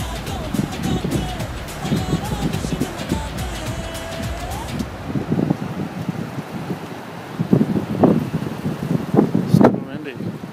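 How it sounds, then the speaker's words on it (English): Strong wind at Malibu Beach buffets the microphone in loud, gusting rumbles, with traffic passing and a voice speaking at times. "So windy."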